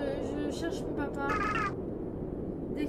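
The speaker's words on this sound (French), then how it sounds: "Un chat?" A cat meows a few times in a gloomy horror video game, short high calls heard under a voice speaking French.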